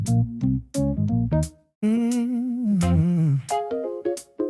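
A recorded song with a sung vocal line over harmonic accompaniment, starting in short bursts then holding longer sustained notes, clear and upfront.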